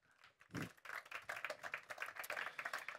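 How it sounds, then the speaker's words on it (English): Audience applause for a panel of farming and ecology speakers at a wildlife conservation event, a scattered burst of clapping that builds quickly and continues steadily at moderate volume. "please give a round of applause for our, for our panelists"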